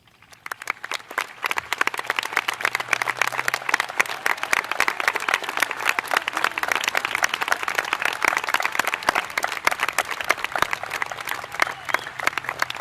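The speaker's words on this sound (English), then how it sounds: "present, and future of our nation's military a big round of applause." Audience applause at a high school commencement ceremony, dense sustained clapping from a large crowd that holds steady and loud for more than ten seconds with little else audible.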